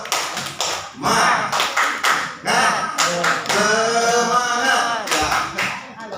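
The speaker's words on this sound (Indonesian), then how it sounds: "tepuk semangat" A group of teachers and staff at a Jakarta junior high school performs a rhythmic spirit clap, bursts of sharp claps in patterned groups with voices chanting along, loud and close.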